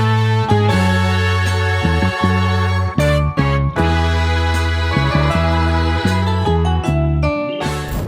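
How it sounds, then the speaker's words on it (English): Gospel-infused soul sample music with warm, full chords and a deep bass line, played loud and steady with rhythmic stops and shifts between chords. "the exact steps I take to create gospel-infused soul samples"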